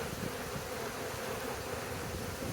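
A dense, steady hum of many buzzing honeybees at the hives fills the air continuously, close and even, with no other sounds.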